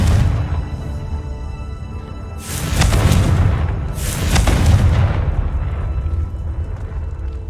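Two loud explosive blasts from the Confringo spell in Hogwarts Legacy, each a broad booming burst with a rumbling tail, roughly a second and a half apart over steady low game ambience.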